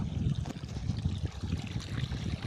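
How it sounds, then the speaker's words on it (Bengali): Water gushes and churns in a steady, heavy low rush, splashing continuously without pause. "পানিগুলো উছলে উছলে পড়ে যাচ্ছে"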